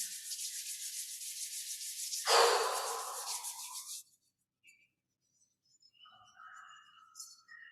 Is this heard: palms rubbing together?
yes